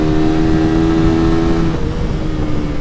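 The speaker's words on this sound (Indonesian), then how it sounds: "Kita kasih raungan RPM tingginya ya." A steady, loud engine drone with a strong harmonic hum that holds high and then dips slightly, a 2014 Suzuki Satria FU motorcycle held at high revs.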